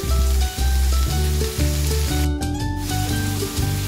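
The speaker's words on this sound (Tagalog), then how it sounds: "Gisa-gisa lang natin yan. Haluin lang natin." Carrots, celery and red bell pepper being sautéed and stirred in a pan for pancit, giving a loud, constant close sizzle with the scrape of stirring throughout.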